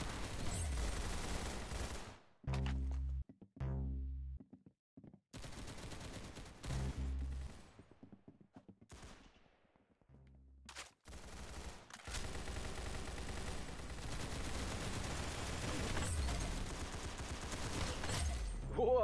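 Gunfire in the Roblox shooter Arsenal comes as repeated bursts of rapid, close shots, broken by brief silent gaps, then a long steady stretch of firing.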